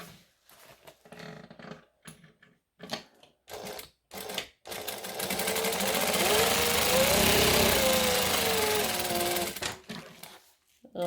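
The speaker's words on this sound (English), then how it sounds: "Now I'm going to stitch the bottom of the bag." Sewing machine stitching along the bottom of a handbag, a steady whirring run of a few seconds in the middle, bracketed by short stop-start bursts at either end.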